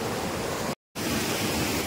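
Steady, loud rushing water of the Barua Sagar waterfall near Jhansi roars continuously, broken by a brief cut of silence partway through before the torrent resumes.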